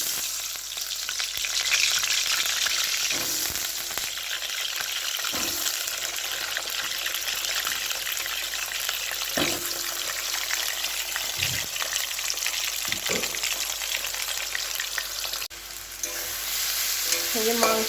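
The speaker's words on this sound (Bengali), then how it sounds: "আলুগুলো একটু ভেজে নিই।" Potatoes frying in mustard oil in a wok, a loud continuous sizzle running throughout with occasional clinks and scrapes of a spatula stirring.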